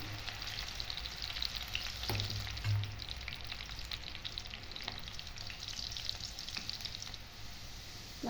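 Onion and spice masala frying in a pan until brown, a steady soft sizzle that carries on throughout with occasional faint stirring clicks and no voices.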